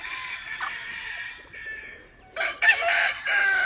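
Roosters crow at close range, a drawn-out call followed by louder overlapping crows from more than one bird.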